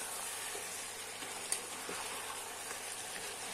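Mutton curry simmering in a pan as it is mixed, a soft steady sizzle with faint scraping from the stirring and one brief clink, quiet and with no talking.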